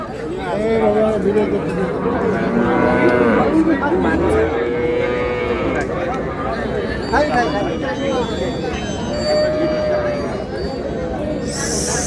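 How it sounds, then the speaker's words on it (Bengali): Dairy cows and calves at a village cattle market in Ranigonj, Ghoraghat, Dinajpur, lowing repeatedly over the crowd's steady chatter and nearby talking. "কেমন দামে উন্নত দুধের গাভী বাছুর গরুগুলো বাচ্চা কেনা হচ্ছে"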